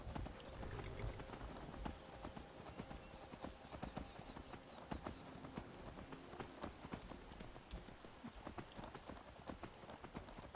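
Horse hooves clip-clop steadily in Skyrim, a continuous run of close, busy hoofbeats with some game ambience and occasional voices underneath.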